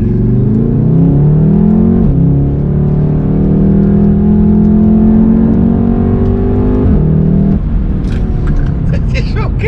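A Volkswagen Golf R Mk7 with a 300 hp four-cylinder engine and DSG gearbox runs loud and close, holding a steady rev with a couple of shifts in pitch, before a brief crackle near the end.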